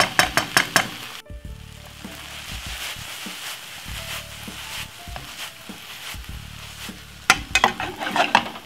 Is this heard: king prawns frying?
yes